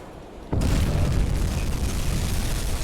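A torpedo striking a ship in the submarine game UBOAT, a heavy explosion that erupts abruptly and rolls on as a deep, roaring rumble.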